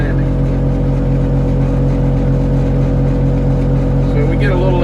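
A fat-tire log skidder's engine drones loud and steady at a logging site, a constant low rumble heard close up under a voice.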